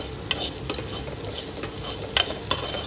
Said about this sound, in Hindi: थोड़ा सा मसाला यहाँ पर मेरे पास कटोरी में है, जो कि मैं इसमें ऐड कर दूंगी और इसको अच्छे से मिक्स करके